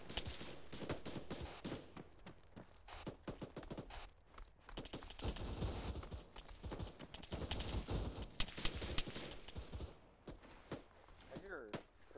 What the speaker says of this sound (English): I hear pretty heavy machine guns over that ridge.